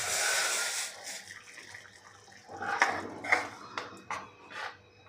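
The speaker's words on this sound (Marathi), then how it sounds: "आता यामध्ये घालायचं आहे आपल्याला गरम पाणी" Hot water is poured into a pot for a pongli aamti curry: a steady rushing pour at first, followed by a few close, sharp clinks and knocks of utensils against the pot.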